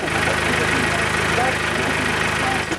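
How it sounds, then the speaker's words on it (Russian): A car engine idles in Sloviansk in 2014, giving a steady, close, rumbling drone with faint vibration that holds evenly throughout. "это мотор Бэки"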